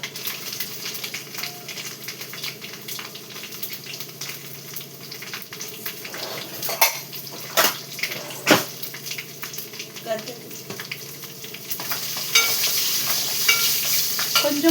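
Tempering of mustard seeds, cumin, dried red chilies and garlic frying in hot oil sizzles and crackles throughout, with stirring scrapes and a few sharp pops, the sizzle swelling louder toward the end, close by.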